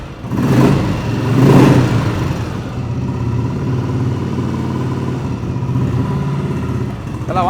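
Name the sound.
vintage Royal Enfield Bullet motorcycle engine revving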